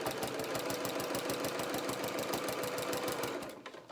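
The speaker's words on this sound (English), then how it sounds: "So let's keep sewing along here now." A sewing machine runs steadily, stitching fabric for a vinyl-fronted project bag with the binding in place. Its fast, even mechanical chatter is loud and close, then it slows and stops near the end.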